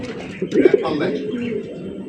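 Pigeons at a fancy pigeon market give a couple of short soft coos, partly covered by someone talking over them nearby.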